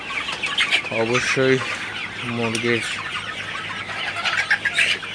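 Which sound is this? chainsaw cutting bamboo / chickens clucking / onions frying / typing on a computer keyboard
chickens clucking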